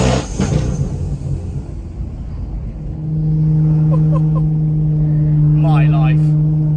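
Tuned BMW M240i or M235i with an MHD tune, its exhaust loud and close, with a steady drone building as it revs through a tunnel and a few quick crackles near the end. Someone speaks over the engine early on.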